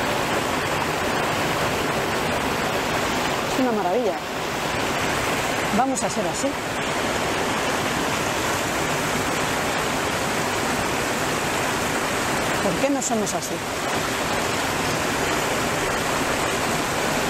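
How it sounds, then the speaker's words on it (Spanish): Water from a stream or waterfall rushes loud and steady, a constant broadband roar that fills the whole span while someone speaks over it in Spanish. "¿Veis cómo va el agua a su sed? Se deja caer totalmente."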